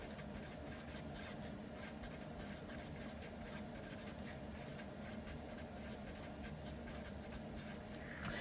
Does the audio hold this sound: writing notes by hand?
yes